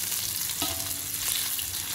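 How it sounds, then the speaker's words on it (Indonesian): Spinach stir-fries in a small amount of oil in a pan, with a continuous close sizzle and a brief metallic scrape of the spatula partway through, and no voices. "Ini lagi masak tumis bayam ya teman-teman"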